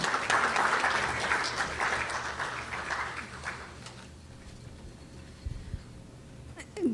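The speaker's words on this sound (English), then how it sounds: "Please, round of applause for Mrs." Clapping from the audience at a women's awards ceremony for an honoree, moderately loud at first, then fading into room hum, with a voice starting up at the very end.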